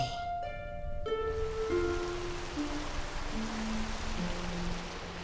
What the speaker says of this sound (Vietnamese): Sao lại mưa nữa vậy?